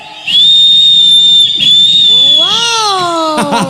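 Men in a crowd at a lively anniversary party whistle loudly, with a sustained shrill whistle joined by several rising and bending whistles. The sound is close and continuous, with little talk.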